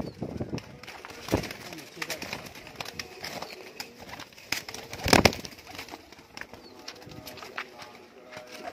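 Teddy pigeons coo in a crowded loft or sale pen, soft repeated coos mixed with wing flaps and clatter, close by, under a steady hum of background noise.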